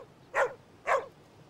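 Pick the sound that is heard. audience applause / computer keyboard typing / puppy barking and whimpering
puppy barking and whimpering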